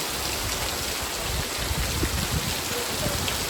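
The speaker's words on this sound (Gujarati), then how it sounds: "બરાબરનો વરસાદ પડે છે" Heavy rain pours down steadily outdoors, a dense continuous patter and splash on surfaces, close and even throughout with no talking.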